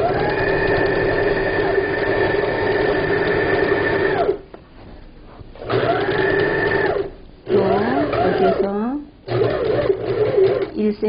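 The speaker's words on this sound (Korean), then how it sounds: "노루발을 내리고 박음질 하시면 됩니다" A sewing machine stitches a cover for a low dining table, its motor whirring in steady runs with short pauses, loud and close, while a voice comes in briefly toward the end.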